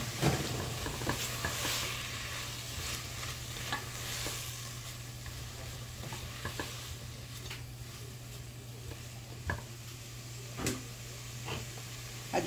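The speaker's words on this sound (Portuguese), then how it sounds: "Agora eu vou colocar toda a minha carne aqui dentro." Meat sizzles and fries in a pan with garlic and onion, a steady close crackle with occasional stirring scrapes and clinks, no voices.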